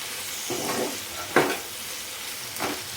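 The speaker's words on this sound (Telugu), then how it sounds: "ఇప్పుడు దీంట్లోకి కట్ చేసి పెట్టుకున్న టమాటా కూడా వేసుకోవాలి." Chopped tomato drops into ivy gourd and mint frying in a pan, giving a steady close sizzle with three brief bursts of stirring and scraping; no one speaks.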